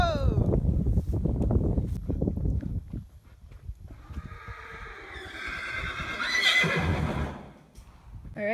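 A horse whinnies loudly and shrilly in the middle, with stamping, shuffling and people talking in the background before and after, while horses are unloaded at a racehorse barn.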